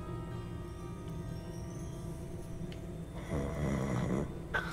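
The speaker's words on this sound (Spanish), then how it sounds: "es el tío roncando este que hay aquí" Character snoring in Hogwarts Legacy, a slow, low rumbling snore repeating under quiet game ambience, close and moderately loud, with a louder breathy swell near the end.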